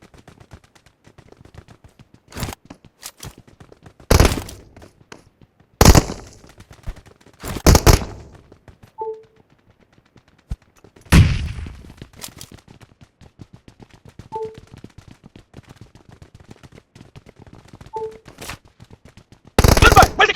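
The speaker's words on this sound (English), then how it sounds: "Gunfire! Where's it coming from?" Video game gunfire rings out in sharp, loud bursts of single shots and short volleys, spaced irregularly with quiet gaps between them, alongside a few faint electronic blips.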